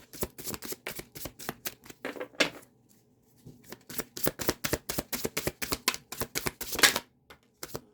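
Tarot cards are shuffled and drawn in a quiet room: a long run of crisp, rapid riffling flutters and slaps, a short pause near the middle, then more brisk shuffling and card snaps, close and fairly loud, with no talking.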